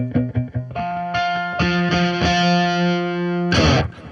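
Electric guitar with distortion plays a short run of picked notes, then two fretted notes held together by index and ring fingers, sustained and ringing with other strings muted, ending in a brief noisy scrape.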